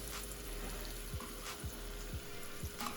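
Steak frying in butter with seasoning, a steady low sizzle running throughout with a few soft thuds and clatters from handling the pan.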